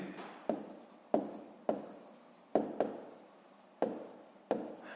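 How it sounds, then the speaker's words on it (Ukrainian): Pen or pencil writing by hand on paper while working a fifth-grade math exercise: a steady run of close, scratchy strokes broken into short bursts by brief lifts, with no voices. "то записуємо тоді, пишемо зірочку"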